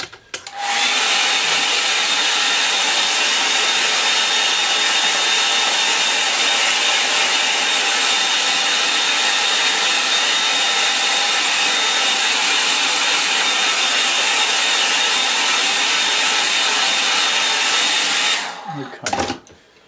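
A hair dryer blows steadily on a landscape painting, a loud continuous roar lasting nearly twenty seconds before switching off, with no voices over it.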